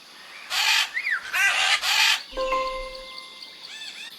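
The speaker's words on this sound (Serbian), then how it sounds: "Kakav zvuk stvara papagaj?" A parrot squawks in a few loud, harsh bursts, followed by a brighter whistling call with steady tones, all close and alone with no talking.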